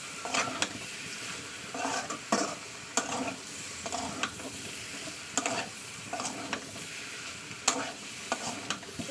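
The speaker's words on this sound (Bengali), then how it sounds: "সমস্ত মশলা ডিম আলু কুমড়ো ভালো করে কষিয়ে নেবো" Spices, egg, potato and pumpkin fry together in a pan with a continuous soft sizzle, while a spoon stirs and taps against the pan in irregular, crisp clicks.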